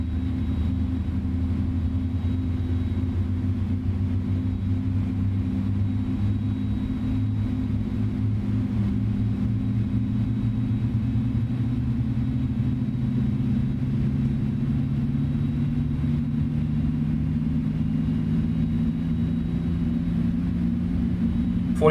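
Airbus A310 jet engine spooling up during start in a flight simulator: a steady, loud low hum and rumble with a tone that slowly rises in pitch, continuous throughout with no speech.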